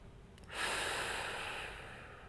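A single deep breath during a T-spine mobility exercise for golfers, a close, soft rushing exhale that swells after a brief pause and then slowly tapers, heard alone.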